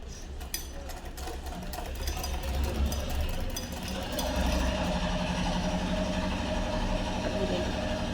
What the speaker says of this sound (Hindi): अब सिलाई करते हैं।